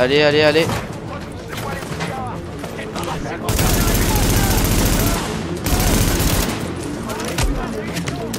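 Automatic gunfire crackles in The Division video game, loud rapid bursts with a long sustained volley in the middle, while someone talks over the shooting.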